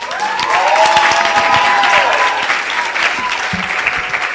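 Loud, enthusiastic applause from a symposium audience, dense clapping with a few whoops and cheers rising through the opening seconds before the ovation holds steady.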